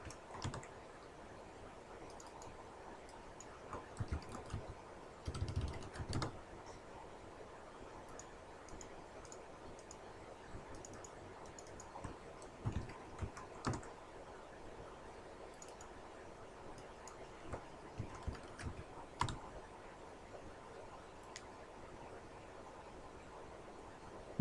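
Quiet, continuous typing on a computer keyboard, a stream of soft rapid key clicks with occasional louder clusters of taps over faint background hiss, steady for the whole stretch with no voices.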